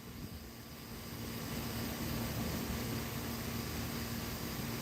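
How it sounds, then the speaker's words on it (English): A jet plane passing overhead outdoors gives a steady, broad roar that swells slightly and holds at an even level throughout, with a faint constant hum beneath. "I hear another plane."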